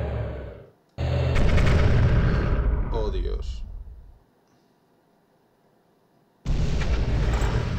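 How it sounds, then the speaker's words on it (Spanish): Cannon fire in the video game Epic 40000 Final Liberation comes as loud, dense bursts of explosions, fading into silence and then erupting again, with a man's brief exclamation over the barrage. "Todos esos disparos que habéis visto es un solo disparo de los cannons Spezda."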